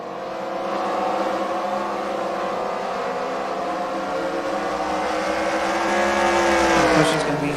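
Race cars on a track produce a steady, strong engine roar that swells and shifts in pitch as they pass. A commentator talks over the noise.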